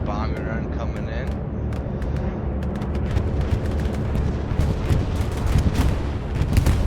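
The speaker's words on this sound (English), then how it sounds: "We got a bombing run coming in." Explosions from a bombing run in Hell Let Loose during a 35v35 match: a dense, continuous barrage of heavy booms and sharp blasts, loud and building toward the end, with voices talking over it.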